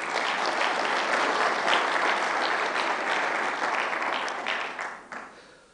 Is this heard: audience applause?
yes